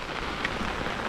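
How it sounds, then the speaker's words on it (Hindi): Steady rain falling, a constant dense hiss of drops on a surface, close and even throughout with no voices. "अच्छी बात है ये कि बारिश आ गई।"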